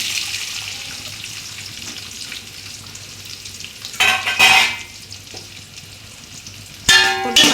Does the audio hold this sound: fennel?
yes